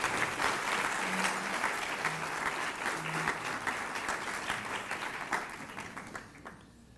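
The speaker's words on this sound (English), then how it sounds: "Give them a round of applause." Steady audience applause at an ethics awards ceremony, a dense wash of clapping that carries evenly for several seconds and then thins and fades out toward the end.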